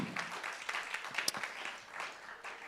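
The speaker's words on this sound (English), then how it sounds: "give him a massive round of applause" A modest crowd at a live music venue claps for the sound engineer, scattered and uneven hand claps at moderate distance, with a few sharper individual claps standing out and some faint crowd noise.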